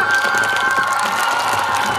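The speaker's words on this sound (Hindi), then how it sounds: "जोरदार तालियां" A crowd at an event for a late trust founder applauds loudly, dense continuous clapping mixed with cheering and shouts, close and sustained throughout.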